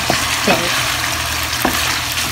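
Pork cut steak fries in a pan for a stir-fry with vegetables, giving a loud, continuous close-up sizzle with a few scraping stirs and no talking.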